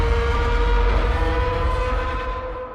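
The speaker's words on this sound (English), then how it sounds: "is our dog poop screech" Screech from a dog poop toy, processed into the core of a monster roar: a loud, gritty, continuous screech with a strong tonal edge, close and alone, easing slightly in loudness toward the end.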